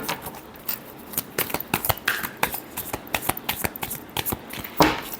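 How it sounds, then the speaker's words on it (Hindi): A tarot deck is shuffled by hand in a string of crisp riffling bursts and slaps, close and clear, with a louder final flurry near the end. "Last shuffle."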